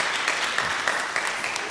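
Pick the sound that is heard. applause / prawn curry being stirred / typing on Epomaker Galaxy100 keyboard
applause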